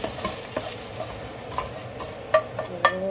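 Food sizzles steadily in a hot wok while a utensil stirs and scrapes, with a few sharper clinks along the way.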